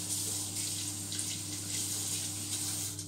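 A kitchen tap runs steadily while something is rinsed under it, a constant close rush of water without talk.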